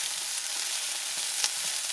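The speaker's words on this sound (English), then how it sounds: "Kind of stir frying it all together." Carrot, zucchini, onion and bell pepper stir-fry in a hot pan with a continuous, even sizzle and a few faint stirring clicks, close and steady with no talking.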